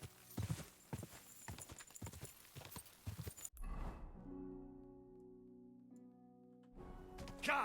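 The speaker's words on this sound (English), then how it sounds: "Keep going, horsey" Horse hooves clip-clopping at a quick, even rhythm in the video game Kingdom Come: Deliverance II, followed by a held musical tone, then the hooves return briefly at the end; no speech.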